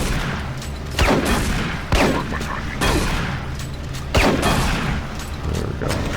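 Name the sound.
shotgun gunfire in the video game Doom 3 BFG Edition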